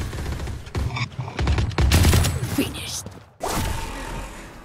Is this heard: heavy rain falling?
no